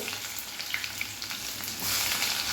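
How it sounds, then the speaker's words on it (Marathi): Onion frying in a mustard and cumin tempering for Marathwada-style misal, a continuous crackling sizzle that swells louder toward the end, with occasional faint stirring and no speech. "आणि कांदासुद्धा आपल्याला हलका असा गुलाबी रंगावरती हा परतून घ्यायचा आहे"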